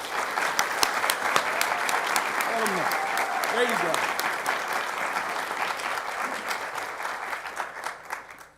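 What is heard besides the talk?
audience applause at an event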